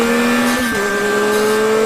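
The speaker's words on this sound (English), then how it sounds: "the unfiltered power of the bike can be heard straight from the soul of the new MT-09" A 2021 Yamaha MT-09 motorcycle engine holds a loud, close, sustained high-rev drone with a brief dip in pitch partway through, alone without voices.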